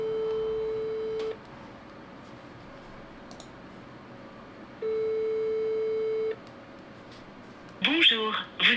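Calling a town hall brings a telephone ringback tone: two long steady beeps separated by a pause over a quiet line, and a recorded voice comes on at the end.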